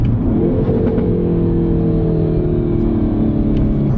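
Hyundai Veloster N engine in N mode with auto rev match, a loud continuous engine drone holding a steady pitch, heard close up from inside the car with no talking.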